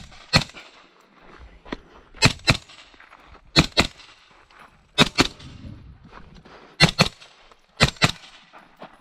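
Rifle shots ring out at a day-and-night shooting match stage: sharp, loud cracks, mostly in quick pairs, spaced over several seconds with quiet gaps between them.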